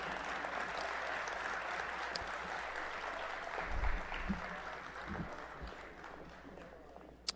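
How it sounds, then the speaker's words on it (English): An audience at a State of the City event gives local high school performers a final round of clapping, a moderate steady patter in a large room with some low thumps and shuffling partway through. "Let's give them a final round of applause."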